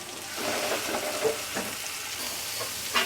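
Chicken and spinach frying together in a pan, a moderate, steady sizzle with soft stirring and scraping strokes recurring every half second or so.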